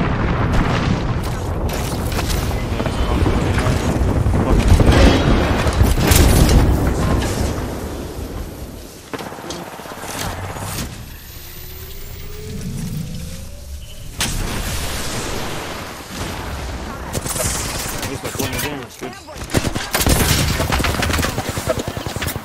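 Bangalore's artillery strike in Apex Legends detonates as a long, loud barrage of booming explosions and rattling gunfire, continuous through the clip with several heavy blasts and brief lulls.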